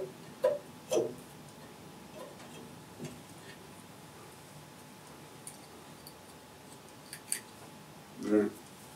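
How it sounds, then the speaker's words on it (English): Scissors snip through leftover serving thread on a bowstring, giving a few brief, quiet clicks and cuts spaced out over a faint background hum. "Now we cut off the extra bit of serving."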